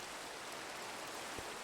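Steady, faint hiss of falling rain in the Minecraft video game, an even wash of noise with one brief soft thump near the end and no talking.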